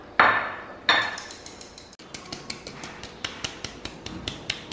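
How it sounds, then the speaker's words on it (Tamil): Pearl millet (kambu) flour is sifted through a sieve for a sponge cake: two sharp knocks come first, then a steady run of light, rapid taps against the sieve, close by with no talking. "நம்ம கம்பு மாவை வந்து ஒரு அரிப்பில் போட்டு இதில் வந்து"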